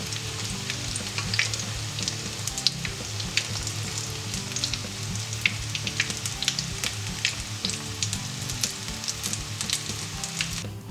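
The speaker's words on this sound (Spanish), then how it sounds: "Ahora abundante aceite bien caliente en una sartén y vamos friendo hasta que estén doraditas." Eggplant and mushroom meatballs fry in plenty of hot oil in a pan, giving a steady, dense sizzle with scattered crackles and pops throughout.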